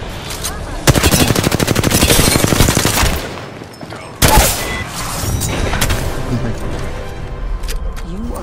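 In Apex Legends, loud rapid automatic gunfire rattles in a dense burst for about two seconds, pauses, then another heavy volley erupts with booming impacts, close and dominant, with a voice speaking over it.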